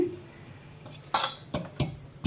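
Star sweet dough being mixed by hand in a bowl, with a few soft scraping and knocking sounds of hand and bowl coming in irregular bursts, close and fairly quiet.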